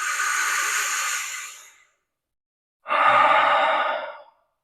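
Two deep breaths during a Wim Hof breathing exercise: a long forceful airy inhale, a short pause, then a strong exhale, close and loud with no talk.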